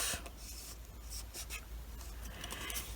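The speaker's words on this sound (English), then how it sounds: "I'm going to score this right down here" A scoring tool dragged across paper while making a scrapbook journal gives quiet, close, scratchy rasping strokes in a few short passes over a low steady hum.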